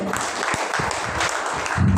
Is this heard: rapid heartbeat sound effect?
no